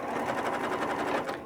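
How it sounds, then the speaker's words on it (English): A Janome 9410 sewing machine runs steadily through a zigzag stitch, a continuous close whir with a fast regular needle pulse that holds at a constant loudness for the whole stretch. "So let's do a zigzag."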